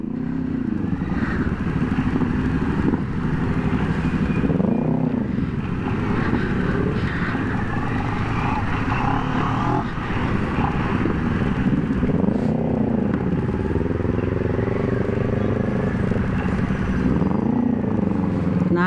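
An NK400 motorcycle fitted with a new exhaust pipe revs loudly and close for the whole stretch, its engine note rising and falling in repeated throttle blips under a constant rumble.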